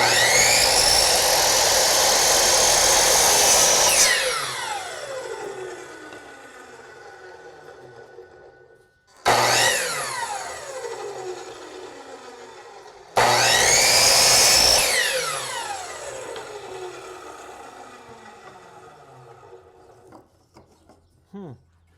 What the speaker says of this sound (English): we're going to cut the miter on those first